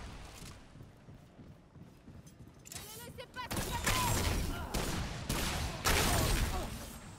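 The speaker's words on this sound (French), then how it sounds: "le coup de l'explosion, c'est sympa." Heavy explosions and rapid gunfire-like blasts in the video game Remnant 2, a muffled rumble building into several loud, dense bursts over the second half.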